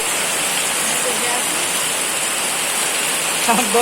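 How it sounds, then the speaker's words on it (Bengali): Heavy rain pouring steadily outside a house doorway in a dense, continuous hiss, loud and close, with faint voices briefly near the end. "দেখতে পারতেছে প্রচুর বৃষ্টি"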